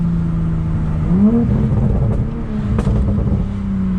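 Car exhaust fitted with a catless downpipe and mufflers, a steady close drone heard from inside with the windows down that rises briefly as the engine revs, then settles back to a moderate cruise.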